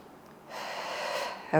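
A single long breath drawn in during a morning exercise routine, a soft airy rush lasting about a second, close to the mic, with a brief voice at the end.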